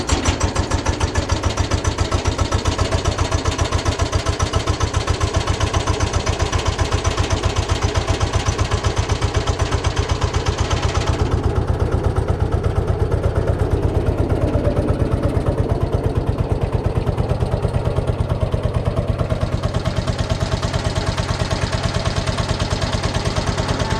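A Peugeot 107's small car engine runs on choke, a close, even, loud idle with a steady pulsing rhythm that holds for the whole stretch without talk.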